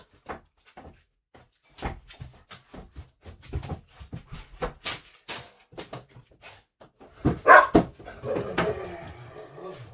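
A pet dog gives a series of short, excited barks and yelps, scattered over about ten seconds with a louder flurry near the end, mixed with some household knocking.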